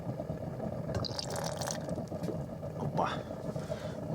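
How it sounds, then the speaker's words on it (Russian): Water and then waste oil trickle out of the tap on a waste-oil heating tank in a frame-built garage workshop. Soft splashing and dribbling runs under someone talking. "Так, видели, сначала побежала вода, а за ней побежало масло."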